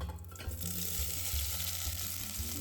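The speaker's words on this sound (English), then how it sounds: "Once it is hot, add in all the veggies we just prepped." Chopped vegetables sautéing in hot olive oil in a pot, a steady close sizzle and crackle with a few soft stirring knocks and no voices.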